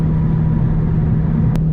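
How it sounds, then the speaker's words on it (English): Cabin sound inside a 2015 Ford Mustang GT 50th Anniversary Edition crossing a bumpy bridge, a steady loud low engine and road rumble with a strong hum and one brief sharp knock near the end, no voices. "Holy cow, this is a bumpy bridge."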